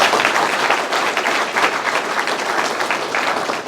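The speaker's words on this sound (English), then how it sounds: "round of applause for Ethan" An audience at a school rugby team naming night applauds steadily for a player, a dense, even wash of many hands clapping at close range throughout.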